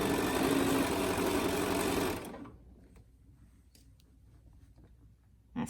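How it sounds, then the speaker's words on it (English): A sewing machine stitches the bottom seam of a fabric face mask with a loud, steady mechanical whir for about two seconds, then stops, leaving quiet handling noises and a soft click at the end. "I'm going to sew the bottom part of my mask"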